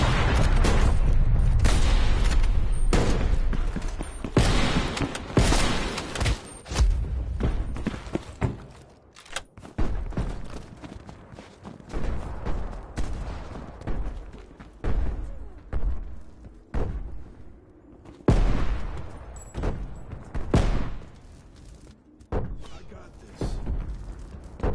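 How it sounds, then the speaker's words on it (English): Incoming artillery fire in a video game, a dense barrage of loud booms and thuds, heaviest at first then continuing as scattered irregular impacts, with intermittent voices over the blasts. "Artillery inbound."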